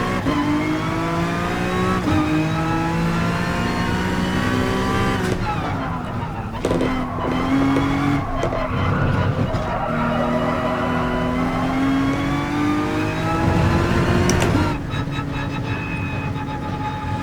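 A race car in Gran Turismo Sport accelerates hard, its engine note climbing through gears, with tyre squeal as the rear steps out in oversteer; loud and continuous, with a brief break in the revs midway.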